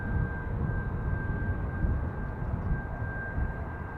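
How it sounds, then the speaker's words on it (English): A British Airways Airbus A380 arriving on the north runway at Dublin Airport, a steady, loud low rumble of jet engines holding throughout without any talk. "So, British Airways A380,"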